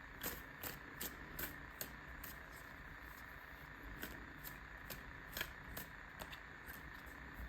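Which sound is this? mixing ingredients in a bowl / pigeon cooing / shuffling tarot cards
shuffling tarot cards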